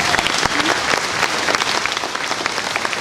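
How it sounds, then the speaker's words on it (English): An audience at a harvest luncheon claps loudly and steadily for about three seconds, a dense, sustained round of applause filling the room with no talk over it. "Let's give them all a round of applause."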